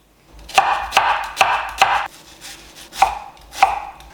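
Knife chopping onion on a cutting board while making Sri Lankan chicken curry: six crisp, close chops in an uneven rhythm with a short pause midway, with no talk.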